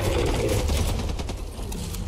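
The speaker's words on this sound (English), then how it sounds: "Okay, I like that effect, that explosion effect." Explosion and gunfire effects from a video game trailer shown at the Game Awards 2020, a loud low rumbling blast giving way to rapid crackling bursts, with no talk over them.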